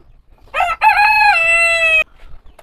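A backyard rooster gives one loud, close cock-a-doodle-doo lasting about a second and a half. The crow starts with a short break and ends in a long held note, with quiet surroundings.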